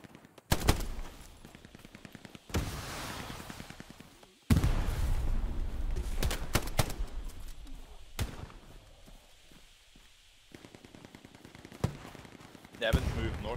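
Hell Let Loose, a World War II video game in a clan match, with bursts of machine-gun fire and single gunshots, some loud and near and others distant, over a rumbling battlefield while players talk over voice chat.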